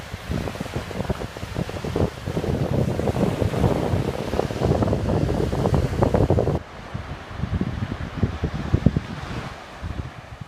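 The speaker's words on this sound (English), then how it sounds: "I just love listening to the sea." Sea waves wash onto the beach at Paguera in a steady roar mixed with gusting wind buffeting the microphone. The surf stays loud and close throughout.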